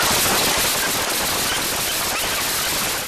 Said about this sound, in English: That nonstop gunfire lasting more than 30 seconds with at least 154 rounds fired